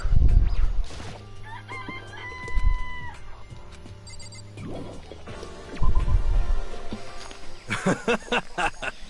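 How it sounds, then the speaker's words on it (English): Rooster crowing and chickens clucking in a video game chicken coop, a few crowing calls over soft clucks, alongside a ringing electronic tone. "This place even has chickens, huh?"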